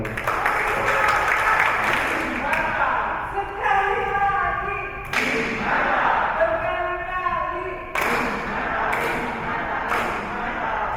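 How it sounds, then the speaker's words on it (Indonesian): Group applause at an Indonesian election literacy workshop after a group presentation, with a scattered patter of clapping alongside voices that talk and call out, and a few sharp bursts that stand out. "Oke, tepuk tangan."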